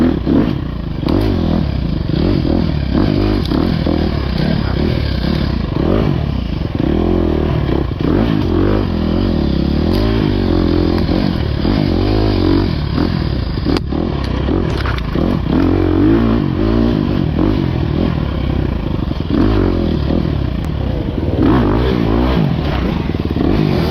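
Enduro motorcycle racing downhill on Indiana singletrack, its engine droning loud and continuous with revving surges and clattering over rough ground throughout.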